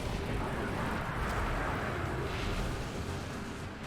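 A grenade explodes among enemy Scions during a Destiny 2 Nightfall fight, a dense sustained blast with rumbling low boom and crackling debris filling the whole moment, loud and continuous without clear breaks.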